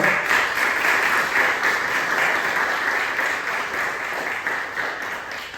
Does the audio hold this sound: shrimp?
no